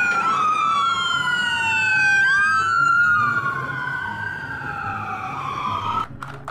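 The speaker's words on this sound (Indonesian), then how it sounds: "mobil ambulans" A wailing ambulance siren sweeps up and down continuously, loud and close, with the sound of traffic beneath it.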